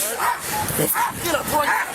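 A police dog barking and yipping during a roadside arrest, with repeated barks and whimpers at close range mixed with shouting voices and commotion.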